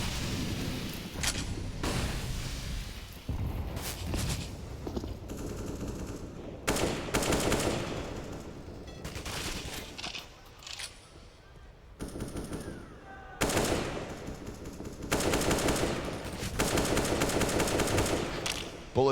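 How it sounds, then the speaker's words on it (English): Rapid gunfire bursts trade back and forth during a professional Counter-Strike grand final between NaVi and Vitality, loud volleys alternating with short lulls across the whole stretch, with a faint voice in the background. "Bullets back and forth."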